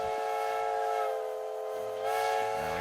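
Steam locomotive whistles sound at London station in the railway strategy game Railway Empire, a loud, sustained tonal blast with a second whistle joining partway through in an overlapping chorus.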